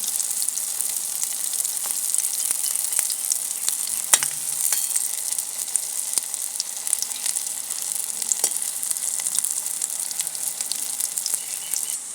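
Wheat flour badiyan frying in hot oil in a village kitchen, giving a steady, close sizzle with a fine crackle and small pops throughout, and no voices.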